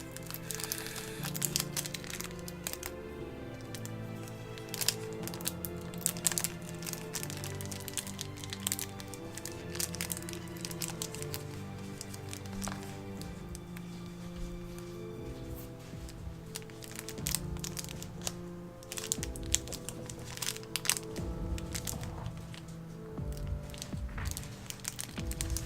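Small bag of V-clips being rummaged through for a 1/14 scale Tamiya Volvo FH12 RC kit build, a close, quiet run of crinkling plastic and sharp clicks and cracks in uneven bursts throughout.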